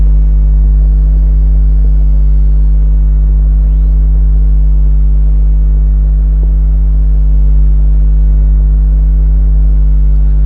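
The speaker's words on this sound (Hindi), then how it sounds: "इस तरह से हमारे पास साउंड ऑफ ट्रैफिक है इन बिग सिटीज" Big-city traffic hums as a loud, steady low rumble of engines that drones on unchanged for about ten seconds, with no voices over it.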